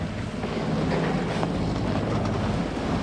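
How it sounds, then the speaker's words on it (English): A sailboat motor sailing north toward Scituate, Massachusetts through short, choppy northeast waves; a steady engine drone mixes with continuous wind rush and water slapping along the hull, loud and close with no let-up. "It is just a snotty bunch of little waves out of the northeast that just sap your speed"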